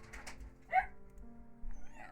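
A pet dog whines and cries indoors in short, high-pitched bursts: one near the middle and another toward the end, heard faintly over steady video-game music.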